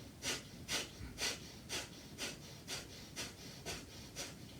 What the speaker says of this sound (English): Just simple diaphragmatic pumping of the navel region using just the nostril only for the inhale and exhale.